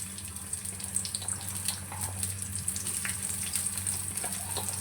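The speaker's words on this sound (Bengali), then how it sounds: "এরপরে তেল গরম হলে দিয়ে দিচ্ছি তার ভেতরে বেশ কিছু পেঁয়াজের কুচি।" Chopped onions fry in hot oil in a wok, producing a steady close hiss with scattered crackles and spits that carry on without any voices.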